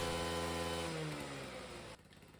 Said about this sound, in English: The rear wheel spins when you rev the engine